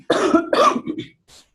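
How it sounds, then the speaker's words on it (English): Two quick, harsh coughs close up, followed by a softer breathy exhale. "please forgive me, I have like a cold cough coming on."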